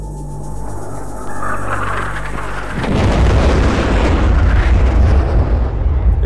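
A jet breaking the sound barrier produces a loud, deep boom that swells out of a steady engine drone into a heavy, sustained rumble.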